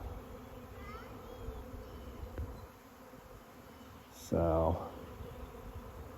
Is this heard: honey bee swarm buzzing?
yes